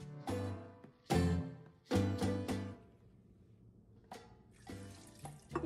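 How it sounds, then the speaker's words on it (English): Meat cooking liquid from birria de res is poured into a blender in several short splashing bursts separated by pauses, close and fairly clear. "I'm also gonna add half a cup of the meat cooking liquid, just to make it easier for blending."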